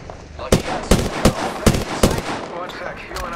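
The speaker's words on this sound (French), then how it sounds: "The enemies are shooting at me." Bursts of enemy gunfire in the battle royale game Apex Legends, five or six sharp shots spaced roughly every half second, loud and close over a busy game background.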